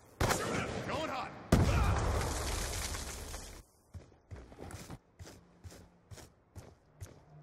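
DSR sniper rifle fire in a video game: a loud booming shot opens a burst of heavy gunfire and rumble, followed by a string of short thuds and footstep-like knocks.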